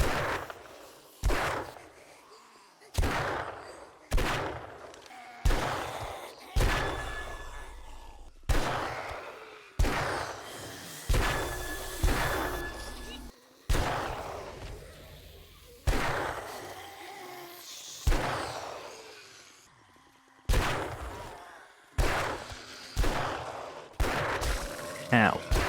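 Pistol shots ring out in the zombie survival game 7 Days To Die during a wandering horde attack, a series of a dozen or so sharp, fairly evenly spaced cracks, each trailing into a decaying echo, with no speech.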